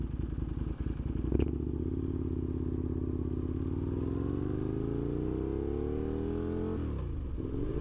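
Aprilia RSV1000 motorcycle engine while riding, a loud close rumble that revs up in a long rising sweep, with a clunk near the start and a sharp drop and change of tone near the end.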